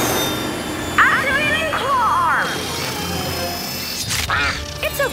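A cartoon mother duck in a kids' video game quacks in short bursts, several calls spread over a few seconds over busy game music and sound effects, with characters talking around them.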